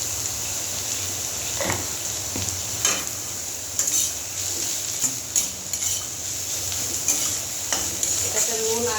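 Chita karola, a salted bitter gourd, fries in hot oil in a pan with a steady close sizzle, broken by a few scraping stirs and light metallic clinks of a spatula.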